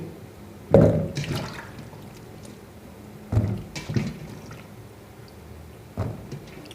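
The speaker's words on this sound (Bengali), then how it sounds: "এখন ধুয়াম বেগুন, এই বেগুন ধুইতেছি।" Cut eggplant being washed with water, with three separate splashing, pouring bursts spaced a few seconds apart over a quiet kitchen background.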